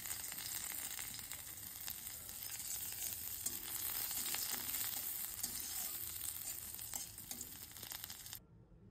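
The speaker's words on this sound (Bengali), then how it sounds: "এবার একটু আলুটা কষে নেবো একটু আদা দিয়ে, আদা কুচি দিয়ে দিলাম একটু আদা কুচি, আর অল্প একটু পেঁয়াজ আর লঙ্কা দিচ্ছি" Potatoes sautéing in a pan with chopped ginger, onion and chili give a faint, continuous frying hiss, close by and steady, that cuts off just before the end, with no talking.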